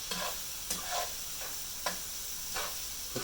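A spoon stirs through sizzling Hamburger Helper as Worcestershire sauce is mixed in, with a steady frying hiss and a few soft scraping strokes at an uneven pace, close by and without talk.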